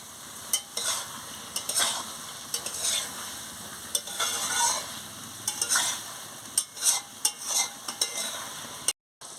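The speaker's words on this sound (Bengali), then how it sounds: "আনাজটা দিয়ে ভালো করে একটু কষিয়ে নিচ্ছি।" Vegetables for a papaya ghonto stir-fried in a pan, with a spatula scraping and knocking in irregular strokes over a constant loud sizzle. The sound is close, with no talking.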